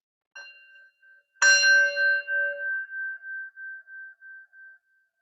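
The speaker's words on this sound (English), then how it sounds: "taking the sound of the bell, following it to the end" A single bell is struck during a gentle Kripalu yoga practice, ringing with a bright clear tone and then decaying slowly in a pulsing shimmer until it fades out. A soft faint ring is heard briefly before the strike.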